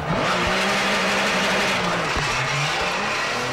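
Porsche rally car at the 2005 Rallye de Wallonie, a loud engine roaring and shifting pitch as it drives past, continuous throughout without talk.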